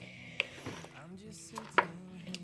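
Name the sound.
stirring homemade apple butter in crockpot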